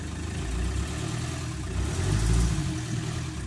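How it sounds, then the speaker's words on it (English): A Land Rover Wolf's 300 TDI diesel engine runs after starting, a low steady chug close by that swells briefly as it revs a little, with no talk over it. "let's get this Wolf fired up"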